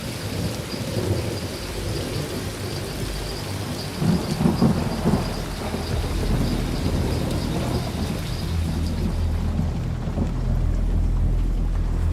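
Heavy rain pours down with deep, rolling thunder during a nighttime storm along the Congo River. A louder crack breaks through midway, and a dense, steady roar of rain continues throughout with no voices.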